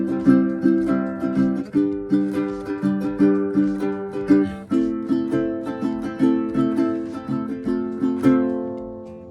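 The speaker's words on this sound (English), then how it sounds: "This is a tenor ukulele." Makata tenor ukulele strung with a low G is strummed and picked in a bright, rhythmic chord pattern, close and clear, notes ringing and decaying between strokes, with no talking.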